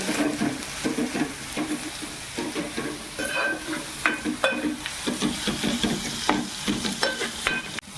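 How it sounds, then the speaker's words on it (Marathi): A garlic, ginger and chili paste sizzles in a pan for prawn biryani. A spoon scrapes and stirs it close by, and the crackling fry runs on without a break. "हे आता लसूण अद्रक पेस्ट आपली शिजलेली आहे"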